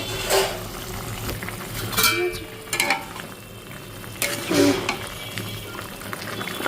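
A home-style vegetable curry tempered with nigella seeds, with salt, turmeric, ginger paste, cumin paste, tomato and green chillies, sizzles in a pan while a spatula clatters and stirs in occasional bursts, close by.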